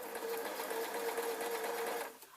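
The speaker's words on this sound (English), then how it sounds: "place it under the sewing machine and sew again" A sewing machine runs steadily while stitching a lined waistcoat with a collar, giving a close, continuous rapid mechanical hum and patter that stops abruptly near the end.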